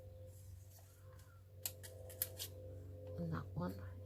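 Scissors snip around the edges of paper for a collage, a few short crisp cuts close by, with a quiet voice talking lightly underneath.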